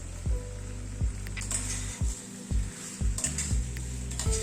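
Chilli chicken topped with chopped green chillies is mixed in a pan, with rhythmic stirring thumps and scrapes roughly every half second over a quiet, steady sizzle.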